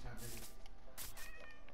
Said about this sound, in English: First, let me see if I can tame this cat